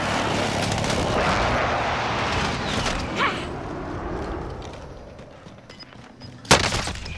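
Gunfire and distant explosions in Call of Duty Warzone Resurgence, a continuous rumbling battle din that gradually fades, then one sharp, loud close shot near the end.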